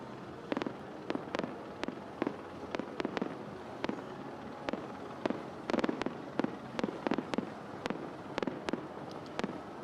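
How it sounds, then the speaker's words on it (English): Fireworks pop and crack at the Vendée Globe finish as the winner's racing yacht arrives, with dozens of sharp bangs in irregular bursts over a steady outdoor crowd and water ambience. "fireworks going up just off his bow."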